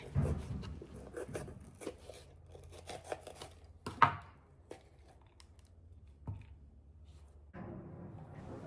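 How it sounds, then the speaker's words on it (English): A kitchen knife slices the tops off bell peppers, giving a few crisp cuts and knocks against a cutting board. The cuts are scattered and moderately close, with soft rustling between them. "we're going to cut the top of the peppers and save the top of the peppers"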